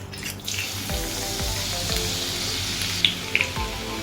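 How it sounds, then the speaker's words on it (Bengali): Finely chopped garlic sizzling in hot oil, a steady hissing fry close up with a few soft knocks and a couple of sharp clinks near the end. "তেল গরম হয়ে গেলে এর মধ্যে ফাইন চপ করে কেটে রাখা ওয়ান টিস্পুন রসুন আমি অ্যাড করে দিচ্ছি"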